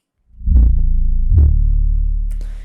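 A heavy, booming sub-bass 808 hits twice in quick succession, deep and rumbling with a long sustained low tail, up close and isolated.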